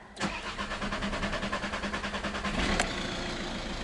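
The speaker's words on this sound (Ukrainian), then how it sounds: "Жмемо назад і пробуємо машину завести." A VW 1.6 TDI diesel car engine with the CAYC code, fresh from an injector replacement, cranks with a rapid, even rhythmic churning for about two and a half seconds, then catches and settles into a steady idle, loud and close.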